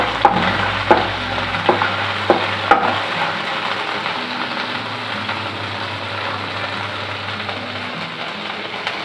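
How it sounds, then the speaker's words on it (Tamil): Ginger garlic paste sautéing in a hot pan for instant biryani, a steady moderate sizzle with a few sharp taps of a spoon early on, close by and without speech. "இஞ்சி பூண்டு பேஸ்டோட பச்சை வாசம் போற அளவுக்கு வதக்கி கொடுத்துக்கலாம்"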